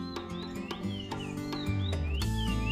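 Birds call in a dense mangrove forest beside a river, giving repeated short rising chirps and tweets over a constant humming background, with no one speaking.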